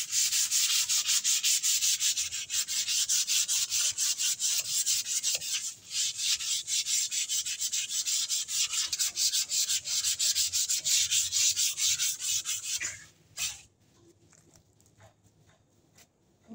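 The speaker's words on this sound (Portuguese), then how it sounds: "é importante o lixamento. Você lixar, tirar toda a impureza, deixar a superfície bem limpa." A wooden door is sanded by hand with sandpaper in a loud, steady, close scratching rasp that runs continuously before stopping abruptly near the end.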